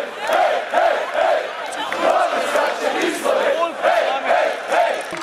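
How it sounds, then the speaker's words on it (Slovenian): A crowd of Slovenian football fans and players chants and cheers together in rhythmic, repeated bursts, a loud massed-voice celebration with pulsing cries roughly every half second. "Zvrstilo se je več ponarodelih uspešnic, ki so jih skupaj prepevali navijači in nogometaši."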